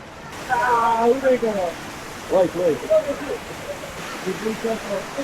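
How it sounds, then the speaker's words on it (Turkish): A waterfall roars as a steady broadband rush of falling water, heard close and loud, while people talk over it throughout. "Şelaleye geldik. Sonunda işte şelale."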